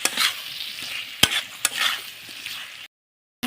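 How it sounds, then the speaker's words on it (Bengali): Potato pieces are stirred into a thick, oil-released curry masala in a hot pan. The result is a close, loud sizzle with scraping stir strokes and a couple of sharp knocks, then a brief silence near the end. "এবার টুকরো করা এই আলুগুলো দিয়ে দেব। দিয়ে ভালো করে তরকারিটা একটু কষে নেব।"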